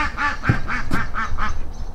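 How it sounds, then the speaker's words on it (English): Ducks quack near a camper van roof, a quick series of about six nasal quacks in steady rhythm, loud and close. "that's the ducks."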